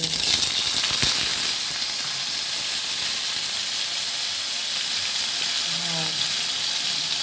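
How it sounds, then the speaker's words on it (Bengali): Panch phoron spices sizzle in hot oil, a steady close hiss and crackle that runs evenly throughout with no talking. "তেলটা গরম হয়ে গেছে, এখন পাঁচফোড়ন দিলাম।"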